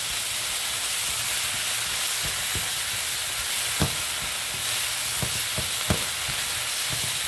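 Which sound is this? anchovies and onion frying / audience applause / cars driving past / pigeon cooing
anchovies and onion frying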